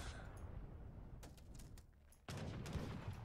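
Cannon fire in Age of Empires III, faint scattered booms early on, then a louder sustained volley of artillery in the final second.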